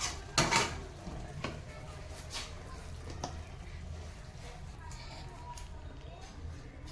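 A lid comes off a pan of pabda fish curry with mustard and poppy seed, giving a quick metallic clank, followed by a low, steady sizzle and a few light taps.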